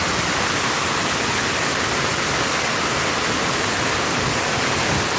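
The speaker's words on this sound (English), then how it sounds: "And the river goes all the way down in concrete." River water rushing loudly down a concrete channel beside a power plant in a historic tobacco district in Durham, North Carolina; a steady, dense roar that fills the whole clip with no break.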